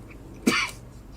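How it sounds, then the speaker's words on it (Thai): A single short throat clearing from a man fixing a Lenovo Legion Y520 laptop, one close rasping burst about a second long with quiet room hiss around it and no talk. "อาจจะมีกระแอมนิดนึงนะกล่องเสียงยังไม่เข้าที่นะครับ"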